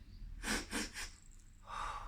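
Reindeer Dancer taking a sniff: a few quick, breathy sniffing bursts in a rhythmic run, followed by a softer exhaled breath, close and fairly quiet.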